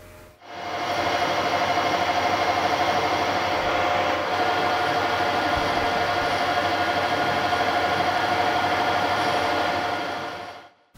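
A metal lathe turns at 700 RPM while a round-nosed high-speed steel tool takes a very light cut, producing a steady, loud whirring drone with a thin whine that holds evenly for about ten seconds, then stops.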